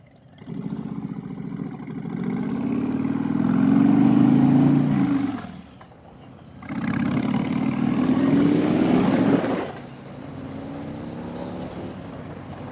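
Motorcycle engine on a Sunday road ride, revving up in two long, loud surges separated by a brief dip, then settling to a steady lower drone, heard close with no talk over it.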